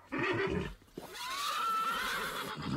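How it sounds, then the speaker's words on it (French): Panicked horses neigh loudly in a long, wavering whinny that rises and trembles, preceded by a snort and shorter calls, close and clear with no talk. "Et les chevaux paniquent."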